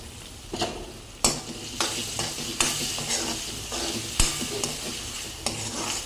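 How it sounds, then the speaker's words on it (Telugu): Finely chopped tomatoes cook in a hot pan for gongura chicken curry, with a steady sizzle under repeated spoon strokes and scrapes against the pan, close and fairly loud, no talking. "ఇప్పుడైతే సన్నగా తరిగిన టొమాటోలు అయితే వేసుకుందామండి ఇవి కాస్తంత మెత్తగా అయ్యేంత వరకు ఉడికించుకోవాలి"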